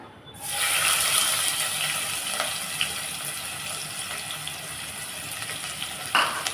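Two large finely chopped onions sautéing in a pan for chicken kurma, a steady loud broadband sizzle that swells after the onions go in and holds throughout, with a couple of brief clinks near the end.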